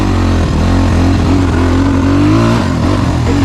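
A 2018 SSR 250S motorcycle engine revving, a loud, close, steady throaty drone with slight rises in pitch throughout.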